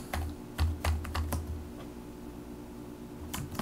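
Keys on a computer keyboard click in a quick burst of typing while entering a word into a document, faint and close, followed by a quiet lull and a couple of final taps.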